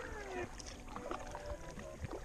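Paddle strokes and water splashing from a small boat pushing upstream against a strong current on a river, a soft rhythmic churn over steady outdoor wash with no talking.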